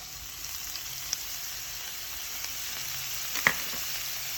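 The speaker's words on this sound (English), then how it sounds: "On a medium-high heat, the first thing you're gonna do is add in the garlic." Garlic and ginger sizzle in a hot pan over medium-high heat, a steady hiss with a few faint clicks and one sharper tap near the end, close by and without speech.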